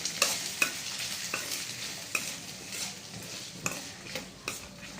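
Soaked chana dal being stirred while it fries in a pan, soft sizzling throughout with a spatula scraping and tapping against the metal several times at an uneven pace, fairly quiet and close.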